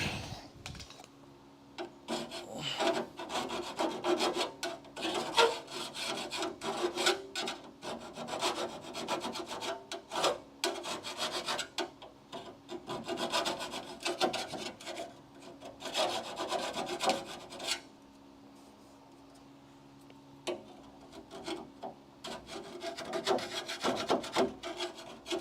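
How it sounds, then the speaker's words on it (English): A flat file works off a metal burr during a Charger crew-cab build, with repeated close rasping strokes in uneven bursts separated by short pauses. "Where's my flat file?"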